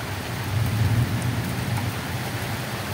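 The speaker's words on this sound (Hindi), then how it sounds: "देखा वर्षा पकईला" Steady rain falling outdoors near a house, a dense, even hiss of drops that stays at a constant moderate loudness with no talking.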